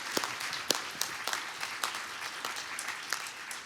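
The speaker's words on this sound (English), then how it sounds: "let me ask the audience for a round of applause for these 12 incredible presentations" A conference audience applauds a set of twelve technology presentations at a medical innovation forum, giving steady, fairly faint clapping from a mid-sized crowd with sharper individual claps standing out.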